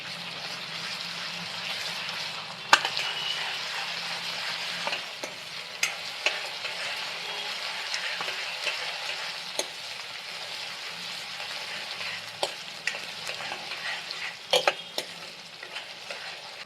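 Ginger paste sizzles and fries in a pan while being stirred, a steady crackling hiss broken by occasional scraping knocks of the spoon, close and moderately loud with no talking.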